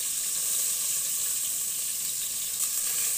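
Lentils tipped into hot spiced oil in a home kitchen pan: a continuous bright, hissing sizzle, close and steady throughout.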